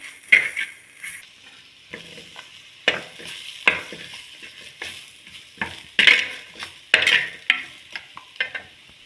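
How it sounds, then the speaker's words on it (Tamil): Drumstick (moringa) pods are sautéed in a pan, with a close sizzle under repeated stirring scrapes and clacks at an uneven rhythm, and no talking. "நான் முருங்கைக்காய் சேர்க்க போகிறேன்."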